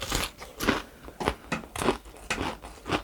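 Crunchy bites into thick-battered, crispy fried chicken from bhc Kwasak King with spicy-seasoned meat, loud close crackles in six or so sharp bursts with chewing between, no talking.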